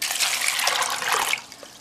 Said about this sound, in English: So now I'm going to put some water over them